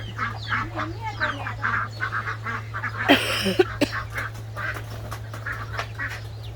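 Muscovy ducks call in a steady run of raspy honks and quacks nearby, with one sharp louder burst midway over a constant low hum.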